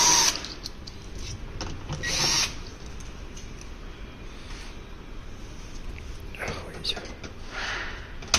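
A power driver whirs in short bursts as screws come out during assembly of a piece of equipment, with quieter stretches and soft voices in between.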